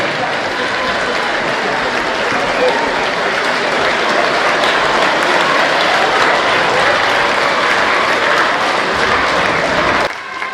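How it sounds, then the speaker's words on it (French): Loud, dense audience applause at a majorettes' 50th anniversary celebration, continuous vigorous clapping from a crowd that drops off abruptly at the close. "On applaudit bien fort."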